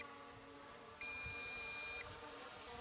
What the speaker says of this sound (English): now we get a different type of beep because we're at like